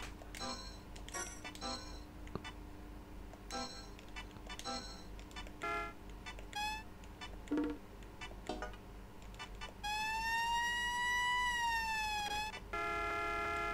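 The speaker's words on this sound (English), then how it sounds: "Let's go with police siren." In the racing game Gadget Racers, a police siren plays as a wailing electronic tone that rises and falls, coming after a run of short beeping menu sounds.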